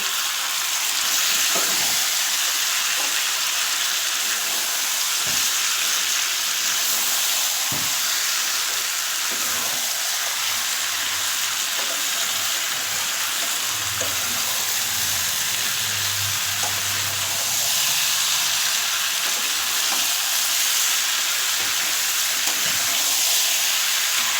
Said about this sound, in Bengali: আমি ভেজে রাখা আলুটাও দিয়ে দিচ্ছি এর মধ্যে আলুটা দিয়ে এবার কিন্তু কষাতে হবে